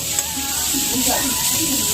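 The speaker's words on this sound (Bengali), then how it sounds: "আর এখানে ভাজা হচ্ছে উচ্ছে আর আলু উচ্ছে আলু ভাজা হচ্ছে" Bitter gourd and potato slices fry in hot oil in a home kitchen with a continuous, close crackling sizzle, and a voice murmurs faintly underneath.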